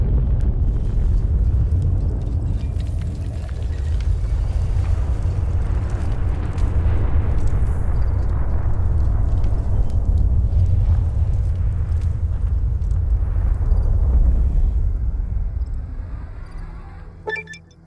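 Explosions in Fallout: New Vegas, a deep, sustained rumbling roar that stays loud for most of the span before fading out at the end, with no talking.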